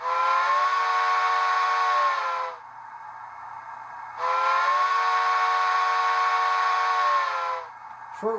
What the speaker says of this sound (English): Here's the whistle.